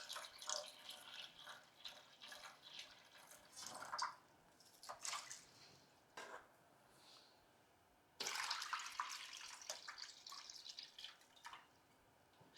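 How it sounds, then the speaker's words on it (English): Water poured into inner and outer bowls for a floating floral arrangement, coming in irregular splashing bursts with pauses between, a longer steady pour near the end, fairly quiet and close. "Just fill up the inner and outer bowls with water."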